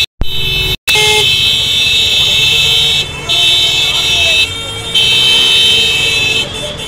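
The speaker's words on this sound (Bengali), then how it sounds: "হর্ন মেরে জাস্ট মাথা খারাপ করে দিচ্ছে।" Car horns blaring in a Haridwar traffic jam, long loud sustained honks layered over engine rumble, with brief gaps and fresh blasts starting up repeatedly.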